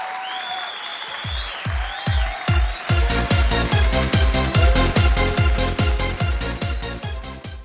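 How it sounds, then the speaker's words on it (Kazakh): A studio audience at a 2014 KTK television comedy show claps loudly. A few scattered claps quickly build into rhythmic, unison clapping that carries on steadily to the end. "Қошемет шапалақтарыңыз"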